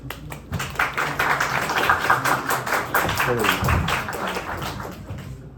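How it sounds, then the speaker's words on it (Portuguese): An audience claps for an instructor at a 2024 training session, a dense, steady patter of applause lasting several seconds with a voice faintly underneath. "Salve de palmas para o Rafael Aleixo, que deu a melhor aula de introdução"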